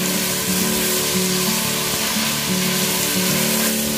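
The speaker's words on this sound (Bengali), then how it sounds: "দিয়ে এবার আমি ভালো করে ভাজবো।" Ingredients for mutton yakhni pulao frying in a pan, a loud steady oily sizzle with a continuous crackling hiss and a low repeating hum underneath, no talking.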